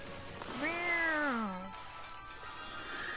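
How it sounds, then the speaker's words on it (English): In the video game Okami, a cat lets out one long, drawn-out meow that rises and then falls, fairly clear over a low background hum. "That's a cat meowing"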